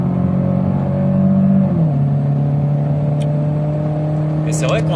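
A Citroën Xsara automatic car accelerates hard at full throttle in second gear, its engine droning loudly and steadily from inside the cabin with a brief shift in pitch, while someone talks over it.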